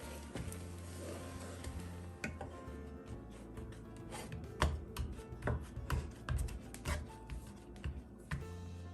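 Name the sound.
mixing flour into churro batter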